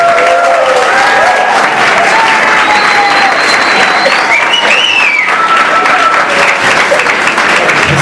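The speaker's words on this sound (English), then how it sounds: "A big round of applause." Loud, sustained applause fills a hall at a Korea–Brazil student joint workshop as a guest is called on stage, with a few whistles and voices rising through the dense clapping.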